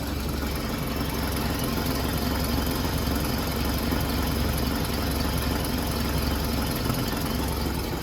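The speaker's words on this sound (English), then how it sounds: "Engine really runs well." A steady, close idle from the overhauled engine of a 1948 Chrysler Windsor convertible coupe, an even mechanical rumble with a fine ticking texture running throughout, no speech.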